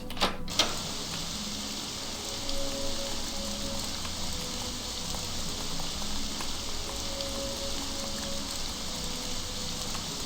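Steady rain falls in the video game Morrowind, a dense, even hiss that runs alone and unbroken throughout, with a couple of faint taps near the start.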